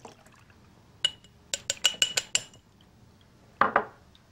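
Tomato seeds and liquid are poured through a metal strainer, making a series of bright clinks and taps against the mesh followed by a short wet splash near the end, close and clear.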